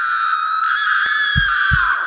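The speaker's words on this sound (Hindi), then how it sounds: "तब दरवाजा अपने आप बंद हो गया और एक लड़की की चीख सुनाई दी" A girl's sustained high scream rings out as a horror-story sound effect, loud and unbroken for the whole stretch, with a couple of low thuds underneath near the end.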